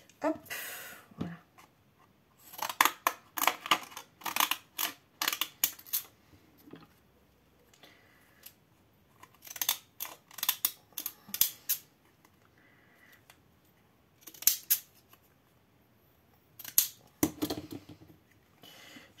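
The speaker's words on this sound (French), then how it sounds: "on va prendre 2 ciseaux crantés pour la fois" Pinking shears snipping through paper card in short bursts of crisp, clustered cuts separated by pauses, close and fairly quiet for scrapbook card making.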